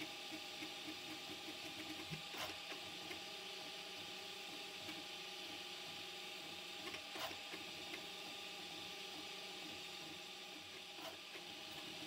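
Prusa MK4 3D printer with a pellet extruder and 0.4 mm nozzle printing at 0.2 mm layers, a steady faint mechanical whir and hum with a few soft periodic clicks, continuous and fairly quiet with no speech.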